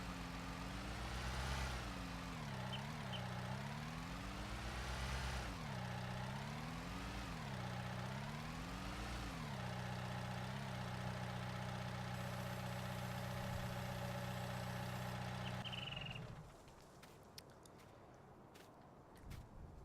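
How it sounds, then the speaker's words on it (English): Tractor in Farming Simulator 19, its engine idling and revving repeatedly in rising and falling sweeps, fairly close and steady, then cutting out near the end to quieter scattered clicks. "Oh, I guess it's easier just to bring a tractor back."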